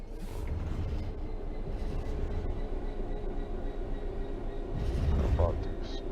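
A train coasting on level ground in the Train Sim World 3 simulator gives a steady low rumble with continuous rolling noise. It swells slightly near the end, and a voice talks faintly at times.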